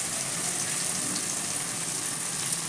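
Masala spices sizzle steadily in a pan of softened tomatoes for soya bhurji, a continuous bright hiss of frying with no talking.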